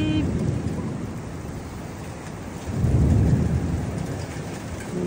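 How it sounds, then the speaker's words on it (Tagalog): Heavy rain pours steadily during a typhoon, with a loud roll of thunder swelling in the middle and rumbling on under the downpour. "Ayan, lakas na ng ulan."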